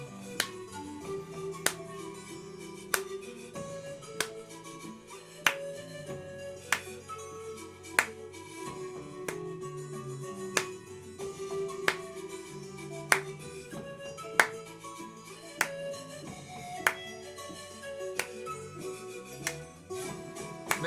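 Steady rhythm of sharp finger snaps alternating with hand claps, each hit crisp and close, repeating evenly over a bed of background music.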